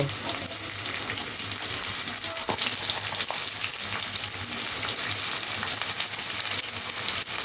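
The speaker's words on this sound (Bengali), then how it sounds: "একটি পেন বসিয়ে তেল পরিমাণ মতন দিয়ে দিলাম এখন পেঁয়াজ কুচি পরিমাণ মতন দেব" Chopped onion frying in oil in a pan, a dense, steady sizzle with crackles and occasional scraping clicks, close and loud, with no talking.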